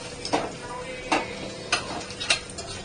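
Ginger and garlic sauté in oil with a continuous soft sizzle, punctuated by four sharp spatula scrapes against the pan at roughly even intervals, close by.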